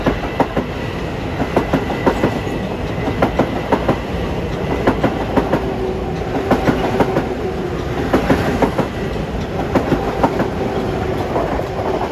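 LIRR train 1960 from Penn Station to Ronkonkoma passes at Woodside, a loud continuous rumble punctuated by repeated clacking wheel beats over rail joints, with no one talking.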